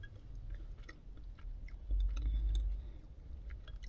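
Someone chews a cracker dipped in a drink inside a Subaru, soft close crunching and squishing bites repeating irregularly, quiet and without talk.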